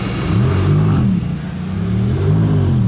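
A Maserati GT2 Stradale engine revs nearby, a loud deep rumble that rises in pitch, eases off, then climbs again, with no voices.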